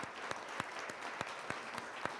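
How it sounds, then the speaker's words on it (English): Faint, distant audience applause at an industry sustainability panel, a soft steady wash of clapping with regular sharper beats, no voices over it. "give a big round of applause to our solutions, our speakers, these brands"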